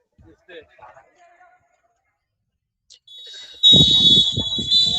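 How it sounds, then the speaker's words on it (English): A sustained electronic buzzer sounds at the end of the half in an under-19 boys' basketball game, loud and steady for nearly two seconds, with commentators talking over it after a quiet stretch of faint voices. "Well, the buzzer has blown 26-18."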